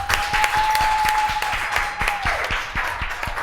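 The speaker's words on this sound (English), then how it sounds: "Clap for all of them, please." Audience applause for contestants at the end of the Social Studies round of a school quiz between Asanteman SHS, Kumasi Anglican SHS and St Joseph, with dense, even clapping from a crowd and a faint sustained tone running under part of it.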